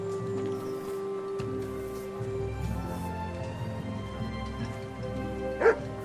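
Dog barking inside the medieval role-playing game Kingdom Come: Deliverance, a couple of short barks rising over a steady game background with ambient hum, moderately loud near the end.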